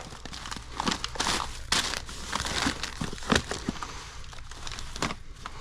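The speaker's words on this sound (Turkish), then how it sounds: "Bir çöp poşetimiz daha." Another plastic garbage bag is handled nearby, its crinkles and rustles coming in uneven bursts with a few sharper crackles, and no speech over it.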